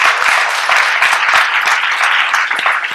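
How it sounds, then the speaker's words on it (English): A room full of people applauds newcomers at a patient experience panel, the clapping loud and close and sustained throughout as a thick, even patter of many hands. "Can we give a round of applause for the newcomers?"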